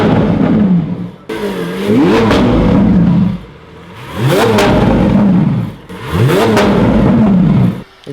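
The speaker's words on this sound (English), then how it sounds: "It actually sounds so much more brutal than the normal Aventador." Lamborghini Aventador S V12 engine revving on a driveway, three loud rising blips in a row with brief dips between them, close and alone without speech.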